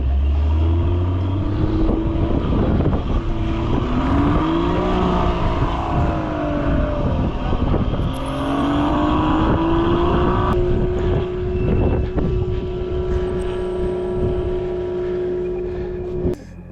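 Car stuck in snow with its engine revving hard and steadily, the pitch rising and falling as throttle is fed, loud and close with wind buffeting the microphone throughout.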